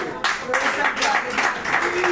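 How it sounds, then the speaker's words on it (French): An audience claps at a cancer healing testimony gathering, with steady rhythmic applause close by and voices mixed in over it. "On applaudit un peu"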